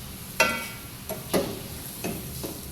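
Spoon strokes stir potato poha in a pan: four or five short, soft scraping taps spaced irregularly over a quiet background.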